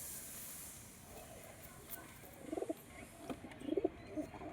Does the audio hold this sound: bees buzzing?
no